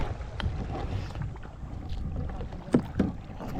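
A small boat moving on open water, recorded up close with constant wind rumble and water wash, punctuated by a couple of sharp knocks or splashes near the end.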